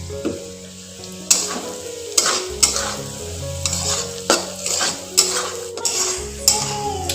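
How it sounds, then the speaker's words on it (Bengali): Cashews and raisins fry in ghee in a pan, a constant sizzle punctuated by repeated sharp clinks and scrapes of a metal spatula stirring against the pan. "এরকম ভাজা হয়ে যাচ্ছে কাজু কিশমিশ"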